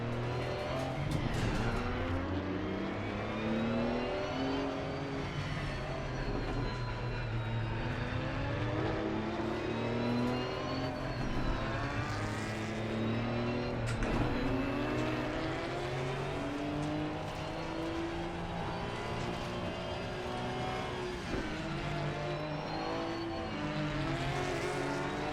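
Porsche Cup race car on a formation lap at Bathurst in a racing game, its engine droning steadily with rising and falling pitch through gear changes and weaving, loud and close throughout with no talking.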